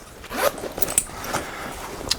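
A small zipper on a Filson briefcase pocket pulled open in one quick, close rasping run lasting about two seconds.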